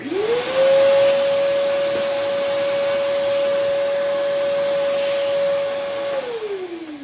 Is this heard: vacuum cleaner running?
yes